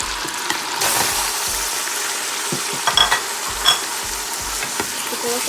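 Mutton frying with onion and ginger-garlic powder in a pressure cooker, a steady close sizzle with intermittent stirring scrapes and clinks of a spoon against the pot.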